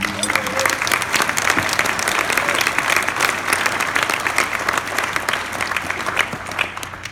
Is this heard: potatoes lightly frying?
no